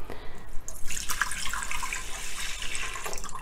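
Milk pouring into a cooking pot in a home kitchen, a steady liquid stream splashing and trickling for a few seconds, fairly close and alone without talk.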